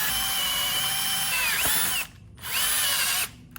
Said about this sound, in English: Drilling. I'm going to make a 22 mm hole at this point.